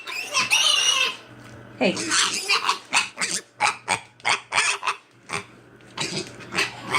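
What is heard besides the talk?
pet mini pig yelling for attention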